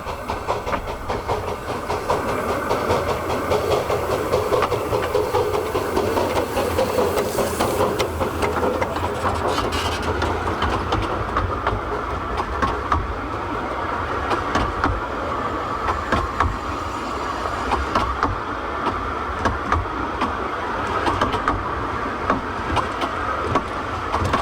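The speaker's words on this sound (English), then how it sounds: "The locomotive that you've been having today running our special train" A ZB type locomotive hauling a special train runs steadily and loudly close by, its engine rumbling under a continuous rolling clatter of wheels on rail, with no talking over it.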